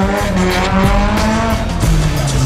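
A twelve-year-old drives a black drift car, number 186, around an Irish track, its engine roaring steadily close by while the tires squeal through slides.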